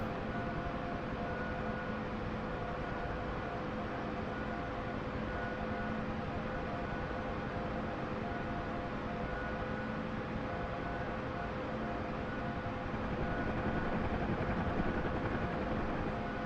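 A Huey helicopter in a flight simulator game powers up for takeoff in Afghanistan, a steady loud droning whine of turbine and rotor with a constant tone throughout, swelling slightly near the end, with no talk.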